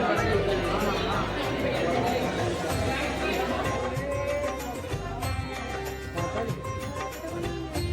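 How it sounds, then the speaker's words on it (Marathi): Loud, unbroken babble from a packed night crowd at Trimbakeshwar temple, many voices overlapping close by, with footsteps and shuffling mixed into the steady din. "खूपच भयंकर गर्दी डायरेक्ट"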